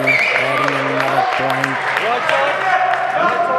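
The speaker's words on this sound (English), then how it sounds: "you see huge applause now for Van Niekerk." Steady applause from a crowd at a squash match fills the scene, with a voice talking over the clapping.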